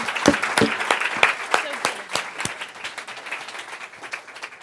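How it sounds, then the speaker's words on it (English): An audience breaks into applause, a steady burst of clapping from a room full of people that gradually thins out. "let's give Michael a big round of applause"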